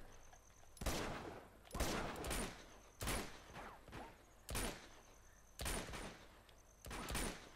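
Gunfire from headshots in the Uncharted 2: Among Thieves video game: repeated loud bursts of shots in clusters roughly a second apart, each with a booming echo, shots continuing throughout.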